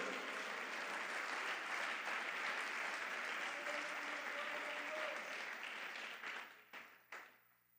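A church congregation applauds during an evening sermon, sustained dense clapping from a crowd that holds steady and then thins out into a few scattered claps at the end.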